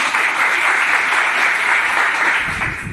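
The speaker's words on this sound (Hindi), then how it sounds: "पंकज जी के लिए जोरदार तालियां होनी चाहिए" Loud, dense crowd applause for Pankaj ji at a direct selling business gathering, a steady wash of many hands clapping throughout before tapering slightly at the end.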